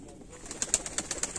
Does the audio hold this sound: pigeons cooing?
yes